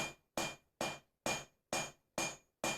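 A hammer strikes hot steel on an anvil while a cold chisel is forged, seven evenly spaced, ringing metallic blows sounding close and clear with short decays and no talk.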